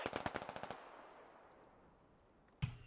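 Gunfire in the military shooter game Squad: a quick burst of about seven shots rolling into a long echoing tail, followed by another sharp report near the end.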